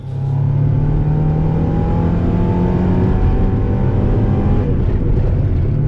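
A stock red Mazda MX-5 Miata engine pulls hard at full throttle in third gear on a road, heard from inside as a loud, steady, rising drone with a slightly rough edge, continuous and close with no talking.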